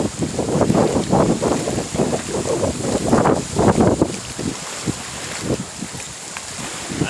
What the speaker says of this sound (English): It's so windy. It's 24 miles an hour wind.